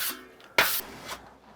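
Sanding sponge scrubbing over dried drywall joint compound, a few short rasping strokes with one sharp louder swipe in the middle, quiet and close.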